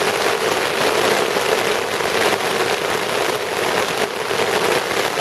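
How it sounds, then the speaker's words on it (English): Heavy storm rain pounds a tent on a wet road trip toward Fox Glacier, a loud, dense, continuous hiss of drops drumming the fabric with no letup and no voices. "Listen to that rain now."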